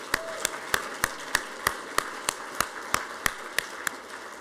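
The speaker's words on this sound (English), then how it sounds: "one more round of applause" Scattered hands clap at a family medicine commencement ceremony, a regular paced series of sharp single claps, fairly faint and distant in a large room rather than a full roaring ovation.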